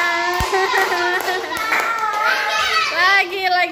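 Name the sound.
children clapping hands in a game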